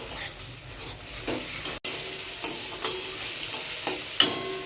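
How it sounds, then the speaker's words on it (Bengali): Onions frying in a pan while being stirred, a steady close sizzle broken by scraping strokes of the spoon roughly every second, with no talking. "দেখো ভাজা হয়ে গেছে পেঁয়াজগুলো।"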